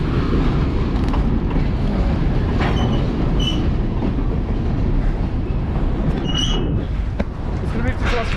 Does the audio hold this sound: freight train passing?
yes